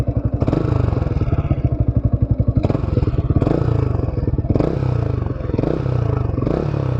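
A Yamaha R15 V2 motorcycle converted to a naked bike and fitted with an R3 muffler is revved up close, its engine pulsing and rising in repeated blips between idle stretches.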